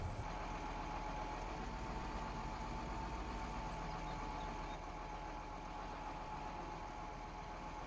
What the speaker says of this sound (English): What we're going to do is just take the harvester over to the field so it's ready to go.